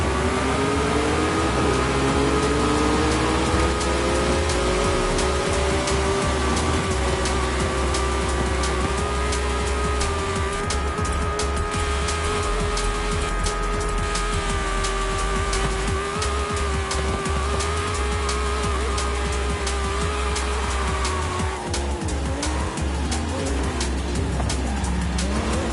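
Off-road cars race in Forza Horizon 5, engines roaring loud and continuous with rising and falling revs, tire squeal and skidding noise mixed in throughout.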